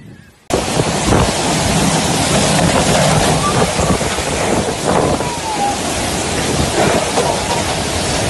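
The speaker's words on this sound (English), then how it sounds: "The storm, characterized by heavy rain, gale force winds, led to widespread flooding" A heavy storm in Sicily brings loud, dense rain and gusting wind that roars close to the microphone, with a deep rumble of thunder underneath. The sound stays continuous for several seconds after an abrupt start.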